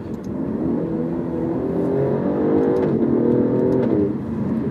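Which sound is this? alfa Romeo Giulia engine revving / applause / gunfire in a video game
alfa Romeo Giulia engine revving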